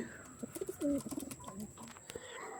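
Pigeons of an original Arshad bloodline coo in soft, low, repeated phrases, most prominent in the first half, over faint background noise with a steady high-pitched hum.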